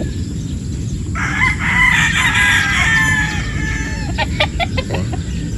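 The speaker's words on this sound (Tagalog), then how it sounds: "Gwapong manok ito mga bossing." A broodstag rooster on a Batangas game farm crows loudly and close, one long drawn-out call followed by a few shorter clucks, over steady outdoor background noise.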